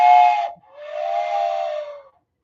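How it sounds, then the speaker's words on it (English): A sad whistle sound effect plays as a short steam-whistle-like blast, then a longer tone that slides downward and fades out, loud and alone. "Sad whistle for you"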